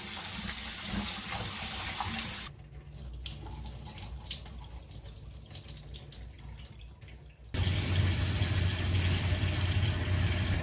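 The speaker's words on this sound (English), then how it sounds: "While the greens are soaking, I also wash yesterday's bean sprouts." Bean sprouts are rinsed under a running kitchen tap, a loud steady stream of water. Midway the flow drops to quieter splashing and handling, then the full gush returns.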